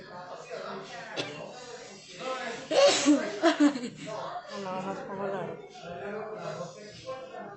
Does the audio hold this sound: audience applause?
no